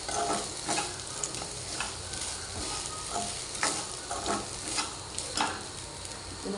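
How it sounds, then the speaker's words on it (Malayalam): Washed, drained rice roasting in hot ghee, a steady close sizzle with scraping stir strokes recurring throughout, no voices. "ഈ അരി നമ്മൾ കുറച്ച് വറുത്തെടുക്കണം"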